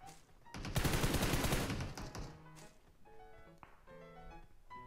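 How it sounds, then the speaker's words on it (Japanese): Bursts of distant gunfire crackle and pop in the video game PUBG Mobile, a dense volley early on, then scattered shots over a steady game background. "結構なんかいろんなとこで銃声してる。"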